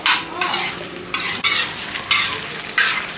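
Masala being stir-fried on a tawa for tawa chicken, with loud rhythmic scraping strokes of a spatula about every second over a steady sizzle, close up, with no voices.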